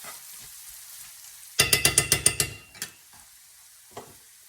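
A spoon scrapes through a very thick mixture in a pot, giving about seven quick rhythmic strokes close by, then a couple of softer scrapes trailing off into quiet.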